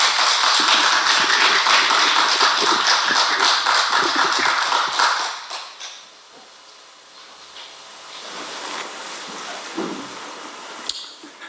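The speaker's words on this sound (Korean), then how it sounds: "우리 김진희 형님께 우리 큰 힘찬 박수 좀 부탁드리겠습니다" A church congregation at a Saturday gathering claps loudly and densely for several seconds before the applause drops off to a quiet room with a few scattered sounds.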